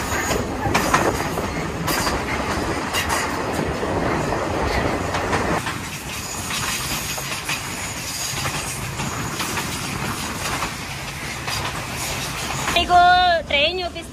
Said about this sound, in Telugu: సో ఇదిగో ట్రైన్ స్టార్ట్ అయిపోయింది